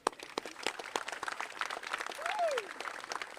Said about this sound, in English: So guys, we're going to give her a big cheer.